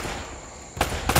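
Two sharp, loud gunshot cracks from the Uncharted: Drake's Fortune video game come close together over a steady background hiss and ambient game noise.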